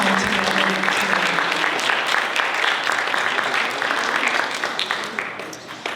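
Loud, sustained round of audience applause at an expert panel discussion, dense clapping filling the whole stretch and thinning slightly near the end, with a brief voice low underneath at the start.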